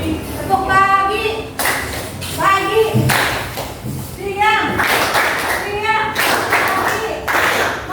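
A classroom of students claps in rhythmic bursts along to a chanted clapping game led by a teacher, with voices chanting between quick patterned volleys of hand claps.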